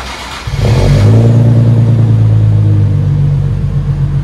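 An Infiniti G35S with a Flow FX true dual exhaust revs up loud and close, its deep rumbling note rising after half a second and holding steady as a sustained drone.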